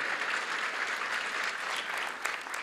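A church congregation applauds a newly married couple during a live service, steady continuous clapping from many hands filling the room with a slight swell near the end.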